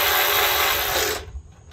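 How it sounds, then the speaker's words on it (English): Screws being tightened on metal hardtop gazebo posts, likely with a power tool, a loud close continuous whirring grind that cuts off abruptly after about a second, followed by faint handling clicks. "you're going to want to tighten all 8 of these screws"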